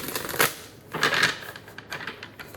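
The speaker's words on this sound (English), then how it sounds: "I'm going to shuffle a little bit more." Tarot cards being shuffled by hand at close range, with papery riffles and soft slaps arriving in a few short bursts and brief pauses between them.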